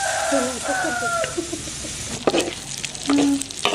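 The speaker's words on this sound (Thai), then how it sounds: "เราเจียวหมูจน กรอบได้ที่แบบนี้นะคะ" Pork pieces with the skin still on deep-fry in hot oil until crisp, a continuous loud crackling sizzle with spatters and occasional metal ladle knocks in the pot.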